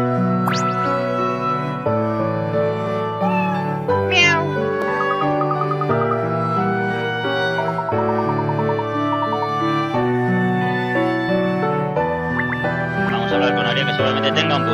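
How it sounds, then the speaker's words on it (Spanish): Cat meowing in the Layton vs. Phoenix Wright video game, short mews set against steady game music that plays throughout. "Vamos a hablar con el gato."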